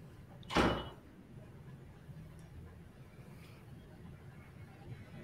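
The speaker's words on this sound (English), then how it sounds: "I'm just going to quickly close the door." An indoor door is shut with a single quick thud near the start, followed by quiet room tone and no talk.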